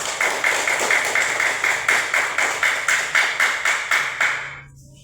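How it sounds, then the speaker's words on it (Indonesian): A group of participants in a teacher-training session claps in steady rhythmic unison for a discussion group called Mawar, with evenly spaced beats at a brisk pace that fade out at the end. "kita tepuk tangan untuk kelompok mawar"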